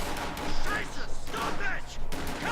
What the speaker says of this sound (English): so I just put my riflemen by and activate volley fire on these Stoom Pioneers